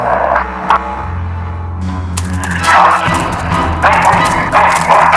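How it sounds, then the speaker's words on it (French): A dog barks in the remastered Full Throttle video game, giving several loud, sharp barks and yips close by, set against a dense game soundtrack and ambience. "Le chien qui est là-bas."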